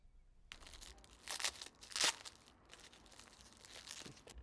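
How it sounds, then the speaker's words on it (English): A trading card pack is torn open close by, its foil wrapper crinkling and crunching in a few quiet bursts that peak partway through, then fades to soft rustling. "The crunch of opening a pack of trading cards is bringing some crazy profits during the pandemic."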